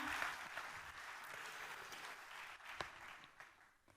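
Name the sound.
audience applause for Stéphanie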